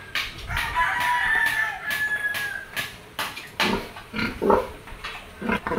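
A sow in a pen on a small farm, with pig grunts and snorts mixed among close rooster crowing and chicken clucking, a steady barnyard din with no talk.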